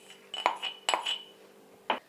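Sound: crushing gond (edible gum) in a pan

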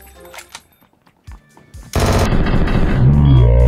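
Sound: Vector submachine gun firing in a video game

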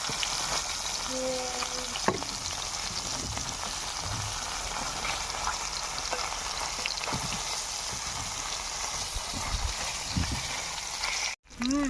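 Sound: fish frying in oil

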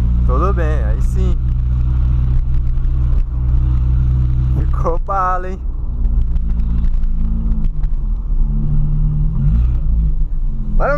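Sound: Volkswagen Gol car engine revving

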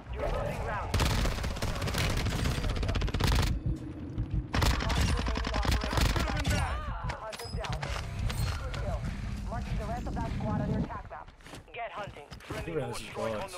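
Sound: gunfire in a video game

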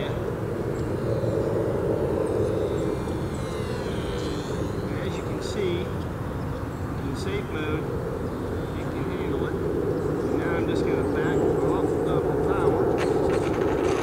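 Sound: HobbyZone Duet S 2 RC plane motor while flying

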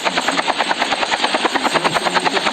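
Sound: helicopter in a video game

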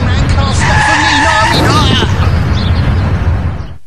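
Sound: car skidding before hitting a child at 40 mph

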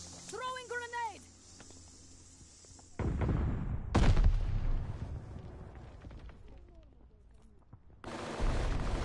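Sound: grenade thrown in Call of Duty Vanguard video game

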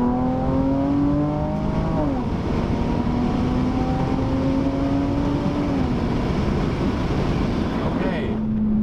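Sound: Dodge Challenger V6 accelerating in second gear

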